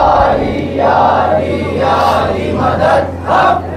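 A mosque majlis congregation roars the Haidari slogan response in unison, several loud crowd shouts rising and falling in waves, with a low steady hum beneath.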